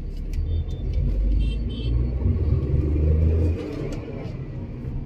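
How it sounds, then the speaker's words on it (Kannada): Tata Nexon petrol engine pulling hard in second gear, a loud, steady low rumble of engine and road noise that holds for about three and a half seconds before easing off. "ಈಗ ನಾನು ಸೆಕೆಂಡ್ ಗೇರಲ್ಲಿ ಇದ್ದೀನಿ ಗಾಡಿ"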